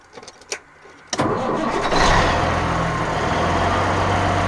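A 1985 Freightliner FLC truck's diesel engine roars up abruptly after a few quiet knocks, holding a loud, steady low rumble through the rest of the clip, consistent with the Jake engine brake engaging.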